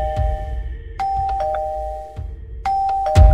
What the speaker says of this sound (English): Oh, that's the doorbell.